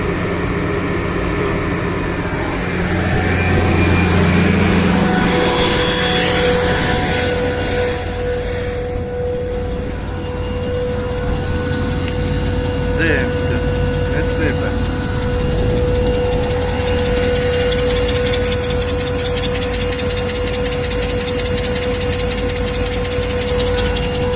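A New Holland T6050 tractor hitched to a HORSCH Maestro 8 DV seeder runs close by with a loud, steady diesel drone whose pitch rises and holds as the revs climb, continuous throughout.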